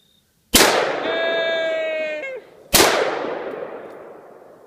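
Two loud, close rifle shots of 5.56 ammunition fired outdoors, each a sharp crack with a long decaying echo, the first followed by a ringing metallic tone, with no talking.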